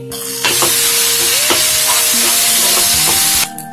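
Ginger garlic paste and onions fry in a pan, hissing in a loud, steady sizzle with occasional stirring clinks, close up, for about three seconds with no talking.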